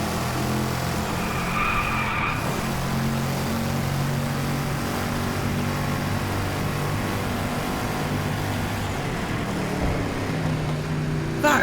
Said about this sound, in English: That is one of the most aggressive V8 sounding supercars ever.